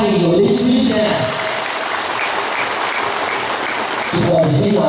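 A round of applause from the congregation at a Catholic church ceremony honoring bishops, broad and steady, with a voice speaking over it at the start and again near the end.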